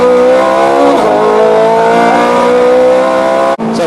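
A Ferrari F430 Scuderia accelerates on a race track, its engine a loud, close, rising howl that climbs through the revs and then cuts off abruptly with a brief gearshift dip near the end.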